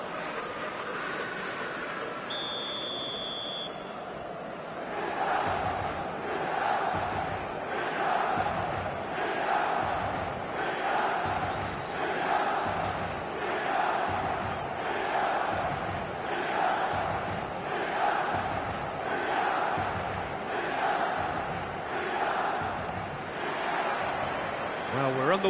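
A stadium crowd in the eFootball 2026 football video game roars and chants in a broad, rhythmic, pulsing swell that fills the whole stretch, with faint tones near the start.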